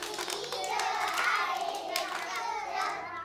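Preschool children in a classroom clap hands with partners in a weather word game, a dense patter of many small claps blending together over a few seconds, with children's voices mixed in.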